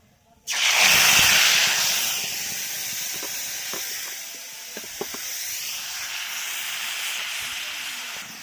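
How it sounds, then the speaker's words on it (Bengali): A loud sizzling hiss bursts out as a coriander chutney mixture hits a hot pan, then settles into a steady frying hiss with a few light clicks of stirring, close by and with no talk. "ভালো করে নাড়াচাড়া করে নিচ্ছি, একদম শুকনো শুকনো করে নেব।"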